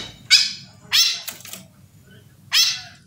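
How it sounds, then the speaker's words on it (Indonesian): A pet bird chirps indoors at home in three sharp, bright bursts, two close together and one after a pause, over a faint low background. "Tam, kamu berkicau terus"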